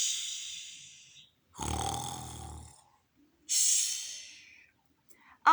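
A storyteller's voice imitates a sleeping bear snoring, giving three slow, loud rasping breaths with quiet pauses between them, followed by a short vocal sound at the end.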